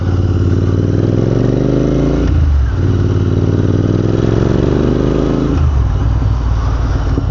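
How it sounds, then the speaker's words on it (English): A Royal Enfield INT650 motorcycle rides through traffic on a cold winter day, its engine droning loudly and continuously with two audible shifts in pitch as it accelerates and changes gear. "let's use the fact that we are riding a motorcycle"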